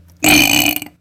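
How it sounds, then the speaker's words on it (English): A single loud, drawn-out burp, close and clear, lasting under a second against near silence before and after. "that was a loud burp, in my opinion."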